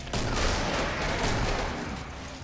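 Continuous gunfire in the video game Killing Floor, a dense rapid barrage of overlapping shots that stays loud and steady from start to finish with no talk.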